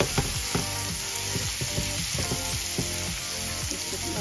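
Hilsa fish pieces fry with spices in hot oil, giving a steady, loud sizzle with repeated scraping and stirring clatters throughout, and no voices.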